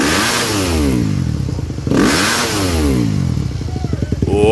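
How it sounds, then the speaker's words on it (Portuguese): Methanol-fueled motorcycle at a motocross event revving hard, with bursts of engine roar rising and falling in rapid throttle blips and crackling exhaust pops, loud and close throughout. "Aí, mostra o pipoco lá pra nós."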